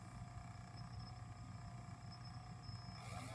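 Small electric motor running steadily after a 40% speed increase, a constant mechanical whir with tonal hum, close and fairly quiet, alone with no talk.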